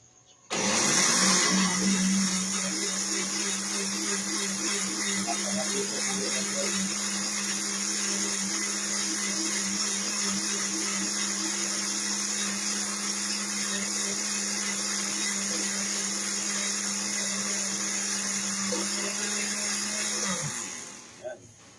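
A blender whirs steadily for about twenty seconds, blending malunggay leaves with water, its motor starting abruptly, holding a constant high-pitched drone, then cutting off sharply.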